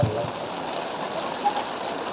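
Steady rain pours over an outdoor religious gathering, a dense, even hiss with no pauses and no talk on top.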